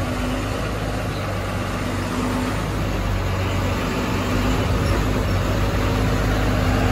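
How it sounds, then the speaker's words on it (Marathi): MSRTC Shivshahi bus idling and pulling away at Swargate bus stand in Pune at night, a steady low diesel engine rumble with a constant hum, close and continuous with no talk. "तर आता आपली गाडी निघतेच टाईममधून"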